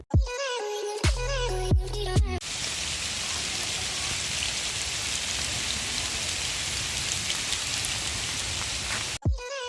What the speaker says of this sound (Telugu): విన్నారు కదా రెయిన్ సౌండ్.